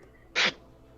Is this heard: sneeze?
yes